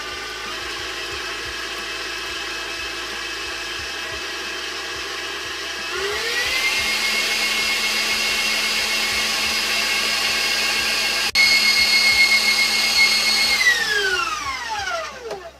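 An electric mixer whips cream for frosting on a raspberry tres leches cake, its close motor whine stepping up in speed twice before spinning down at the end.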